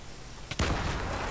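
A single sharp explosion bursts in a video game, a brief loud boom with a short decaying rumble after it, standing out from quiet game background.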